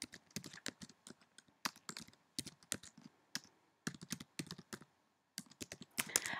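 Quick bursts of clicking keystrokes on a computer keyboard, close and fairly quiet, in short uneven runs with brief pauses between them.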